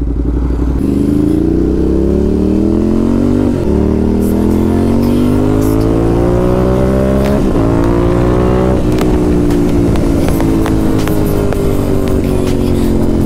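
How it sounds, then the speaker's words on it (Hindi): A Ducati SuperSport 950S motorcycle engine growls loud and close while being ridden, its pitch climbing through the gears in steady rising sweeps with brief drops at each shift, continuous throughout with no talk. "अभी अपन चला रहे हैं डुकाटी"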